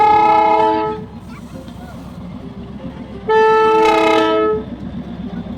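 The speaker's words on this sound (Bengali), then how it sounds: "এখানেও টয় ট্রেন যাচ্ছিল ভেতর দিয়ে।" A Darjeeling toy train sounds its horn in two long, loud blasts, one at the start and another near the end, over a steady rumble of the train passing through a market street lined with clothing stalls.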